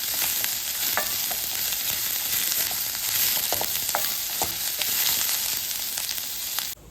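Vegetables fry in a pan for a South Indian poriyal, giving a steady close sizzle broken by scattered scraping taps as they are stirred.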